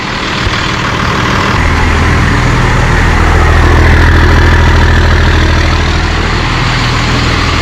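A Cummins diesel truck engine idles steadily up close, a loud, constant low rumble with a deep throb that holds through without a break.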